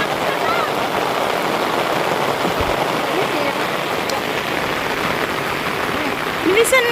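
Rain falls steadily on a farm in Leyte, a dense continuous hiss with a faint voice briefly audible near the end.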